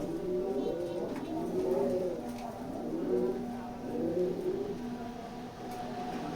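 Black racing pigeons coo in soft, repeated rolling phrases at a moderate distance, with faint traffic and a car revving in the background.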